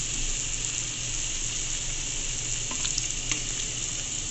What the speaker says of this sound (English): So I'm going to add some more water just to cover up.